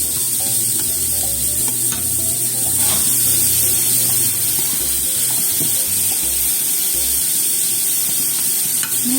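Carrot strips stir-frying in a hot pan, a steady close sizzle with repeated scraping and stirring strokes throughout, no voices.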